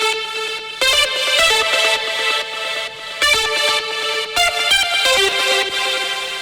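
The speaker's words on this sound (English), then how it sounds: "I just have a different synth on this second layer" A second-layer synth pluck playing a trance melody made in Ableton, bright repeated notes stepping through a phrase in a driving rhythm, loud and close with a sustained buzzy tone and no voice.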